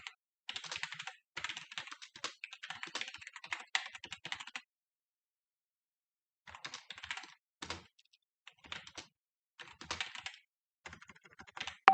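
Computer keyboard typing while entering a message in a messaging tool, with bursts of rapid close key clicks from the start to about 4.5 seconds, a pause, then shorter scattered bursts of keystrokes.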